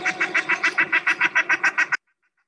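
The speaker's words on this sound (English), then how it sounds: "That's a shell duck that wants you to know it's there." A common shelduck calls in a fast series of about a dozen sharp, evenly spaced honking notes, loud and close, ending abruptly into silence.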